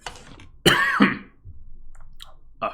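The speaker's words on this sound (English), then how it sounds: "Just a cough." Single harsh throat-clearing cough up close, a sharp burst followed by a shorter second rasp, then quiet room with small mouth sounds.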